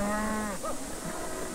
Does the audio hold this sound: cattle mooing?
yes